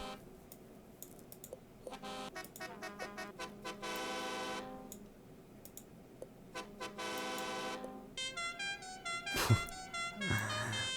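Two long, blaring truck horn blasts in a truck simulator video game sound a few seconds apart, with clicking keys and more short honks near the end.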